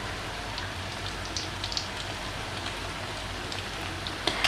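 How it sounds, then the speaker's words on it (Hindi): Beef shami kebabs frying in a pan, a steady, soft hiss and sizzle with scattered small pops and crackles, louder near the end. "ये मैं सारे कबाब फ्राई कर लूँ फिर आपको डिश आउट करके दिखाती हूँ।"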